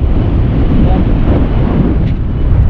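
Strong wind buffets the microphone at a low-tide coastal fishing spot, a loud, constant low rumble with no letup.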